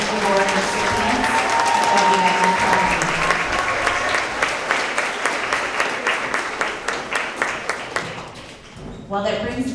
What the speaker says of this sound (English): Another round of applause for all of our Reading Award recipients.